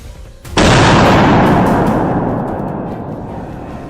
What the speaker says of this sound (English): To take down a wild boar with one shot, you need to aim accurately and shoot at its head and lungs.